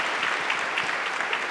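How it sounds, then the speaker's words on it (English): An audience applauds speakers at a community event, a dense, steady wash of clapping hands filling the room at even volume throughout. "Round of applause again for our phenomenal speakers."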